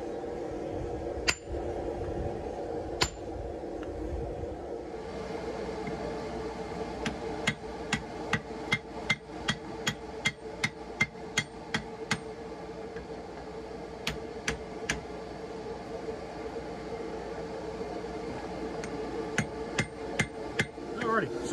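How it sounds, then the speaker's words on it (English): Sharp metallic hand hammer strikes on hot steel while forging a small anvil ring out in irregular runs, quick clusters of blows with pauses between, over a low steady background hum. "after dressing up the heel with a hand hammer a little bit"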